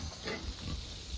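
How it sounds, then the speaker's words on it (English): Low, soft pig grunts close by, a few short snorts over a steady hiss of spray from a water hose. "Don't ignore my pig"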